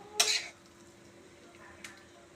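A spoon scrapes and clinks against a wok while potato filling cooked with turmeric is scooped into a bowl: one sharp clattering burst near the start and a brief second clink later, over a quiet room.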